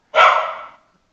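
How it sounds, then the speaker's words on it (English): A single sharp dog bark, loud and fairly close, fading quickly into silence. "Apologize for the barking in the background."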